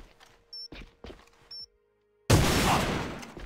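Grenade explosion in a shooter game: a sudden loud broadband blast that decays over about a second, following sparse quieter in-game noises and short beeps.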